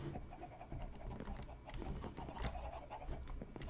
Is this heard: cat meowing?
no